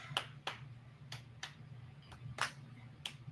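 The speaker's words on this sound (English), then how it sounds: "She saw you clapping and she started clapping." A few sharp, separate claps spaced irregularly over a steady low hum, fairly close and moderately loud, with no talking.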